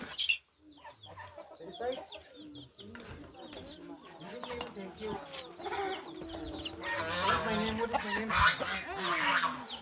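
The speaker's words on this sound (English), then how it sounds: "Feed the chicken." Chickens being fed in a village yard cluck and call continuously, close and fairly loud, with a rooster-like call among them and people talking over the flock.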